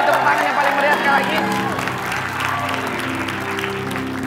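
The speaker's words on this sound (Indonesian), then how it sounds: "kasih tepuk tangan yang paling meriah sekali lagi" A studio audience at a televised Indonesian variety show breaks into loud, sustained applause mixed with crowd noise and some cheering, with voices in the room.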